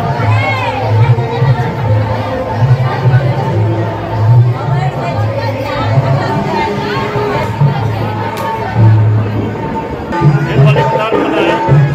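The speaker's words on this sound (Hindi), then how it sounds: "देख सकते हैं भीड़ आज माता रानी के दरबार में कितनी भीड़ हो रही है" Dense crowd of devotees at a Durga Puja temple to the goddess Koilakh Devi in Mithila, a steady loud hubbub of many voices with occasional shouts and swells throughout.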